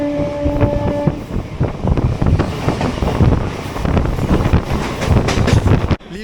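A Howrah to Bandel local commuter train runs at speed, loud continuous rumbling and rattling of the carriages with wind buffeting the microphone, ending in a sudden drop.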